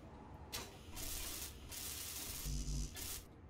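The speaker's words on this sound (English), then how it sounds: "Let's just weld it up to see what it looks like." Welding parts in the video game Space Engineers gives bursts of harsh, hissing spray-like noise that start and stop several times over a few seconds, steady and moderately loud, with no talking.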